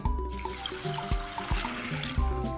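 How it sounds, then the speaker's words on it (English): Warm water trickles and splashes into a container of egusi melon seeds, with a few soft knocks, quiet and close. "I'm going to pour all the egusi in this heater, and then add warm water to it"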